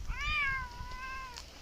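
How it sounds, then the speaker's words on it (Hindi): A black cat gives a single drawn-out meow, close and clear over faint low background rumble, with no talking. "काली बिल्ली भी आ चुकी है"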